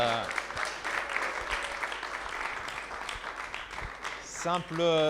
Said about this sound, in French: Je pense qu'on peut s'applaudir collectivement parce qu'on arrive à la fin.